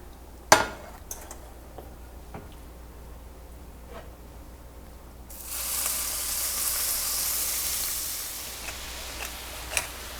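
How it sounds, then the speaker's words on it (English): Shrimp cooking in oil in a pan, a few light clinks and taps of utensils at first, then a soft hissing sizzle rises halfway through and holds steady to the end. "So we're going to add oil to our pan. We're going to cook our shrimp."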